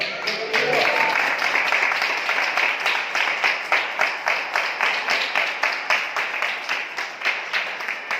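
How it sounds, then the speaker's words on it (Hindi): Audience applause at a church sermon, dense clapping at first that settles into a rhythmic, evenly pulsed beat of synchronized claps continuing for about eight seconds. "तालियां बचा के रखिए, आगे जरूरत पड़ेगी"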